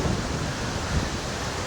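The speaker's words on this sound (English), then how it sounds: "Right now, it's raining here" Rain falling outside, a dense, steady hiss of broadband noise, fairly loud and unbroken, with no voices.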